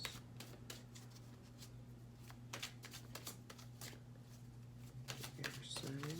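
Oracle cards are shuffled in a series of soft riffling flutters and slaps, close and fairly quiet, amid low room hum.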